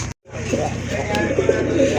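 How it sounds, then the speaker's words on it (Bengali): A pair of red khaki pigeons gives soft, low, repeated cooing close by, set against steady background noise. "এটা হচ্ছে এক জোড়া লাল খাকি কবুতর"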